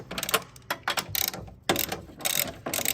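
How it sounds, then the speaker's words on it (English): Hand ratchet loosening 12 mm bolts on a 2004-2006 Scion xB during a front camber plate install, giving bursts of rapid, bright metallic clicking in repeated strokes, close and loud, with short pauses between swings. "I'm just gonna use a normal ratchet"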